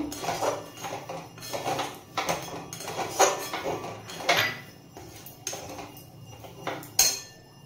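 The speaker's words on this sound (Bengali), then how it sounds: "আমি একটা থালার মধ্যে ঢেলে নিয়েছি।" A metal pan clatters and scrapes against a plate as cooked semolina is tipped out for sujir rasmalai, a series of close clinks and knocks spread irregularly through the clip.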